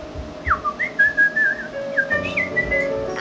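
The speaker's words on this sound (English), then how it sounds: "Can you whistle us a tune?" A man whistles a short melodic tune solo, clear and close, with gliding rising and falling notes over a faint room hum.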